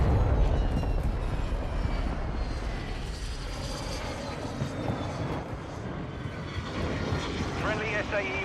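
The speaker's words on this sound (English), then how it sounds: "Friendly VTOL entering this sector." A friendly VTOL aircraft from a video game flies over with a steady, loud engine roar and rumble that fills the whole stretch, with a game voice speaking over it.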